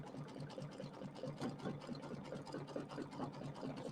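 An embroidery sewing machine stitches an Easter settee pillow, its needle chattering in a fast, even rhythm with a steady mechanical whir, close and continuous throughout.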